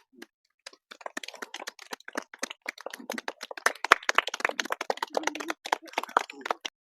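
Primary school schoolchildren clapping at an environmental programme in a village, a quick, uneven patter of small hand claps building and thinning over several seconds, fairly near, with a few faint voices mixed in.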